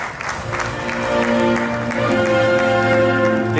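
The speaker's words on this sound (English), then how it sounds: "Ladies and gentlemen, give a round of applause." An audience claps at a company's 30th anniversary ceremony, with sustained applause filling a hall while music plays underneath.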